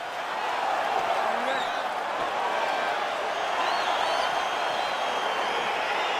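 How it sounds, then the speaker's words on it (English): A virtual arena crowd cheers in EA Sports UFC 4 as a Bruce Lee versus Eddie Alvarez fight gets underway. A steady, dense roar of distant cheering holds at an even level throughout, with no gaps. "crowd getting excited as this fight gets underway"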